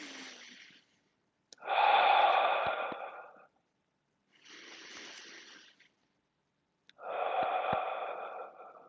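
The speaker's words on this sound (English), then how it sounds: "Deep breathing." Slow, deep breaths during a Pilates class: four long, airy inhales and exhales, close to the microphone, separated by short silent pauses, with no speech.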